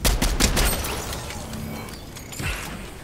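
Gunfire in the video game Fortnite, a loud rapid volley of shots up close at the start that trails off into scattered distant shots, with no one talking.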